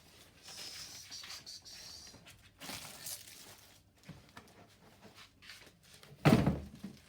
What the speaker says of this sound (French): c'est le bruit du carton